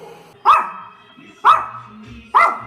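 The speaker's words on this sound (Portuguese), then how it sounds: "Olha o cachorro." A dog barks three times at steady intervals of about one second, each bark sharp, loud and close, with quiet gaps between them.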